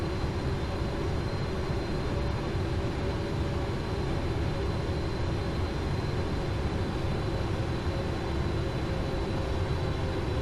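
Boeing 777F jet engines stuck above idle on approach in the FSX flight simulator, a steady loud broadband roar with a faint whine running unchanged throughout, with no voices.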